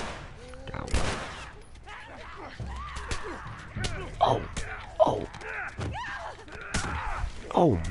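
Gunfire in The Last Of Us video game: a string of sharp shots spaced irregularly, some close together, with someone talking over and between them.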